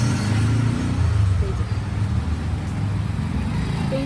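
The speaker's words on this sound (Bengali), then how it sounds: "এই যে এটা মেন রাস্তা" Traffic on a busy main road beside a roadside food stall in Bangalore, a dense steady rumble of cars and other vehicles with passing engine noise, and a voice speaks over it.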